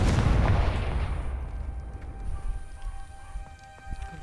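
Confringo fire spell blast in Hogwarts Legacy, a single loud broadband burst at the start that decays into a long crackling, rumbling tail, with scattered faint pops afterward; no talking.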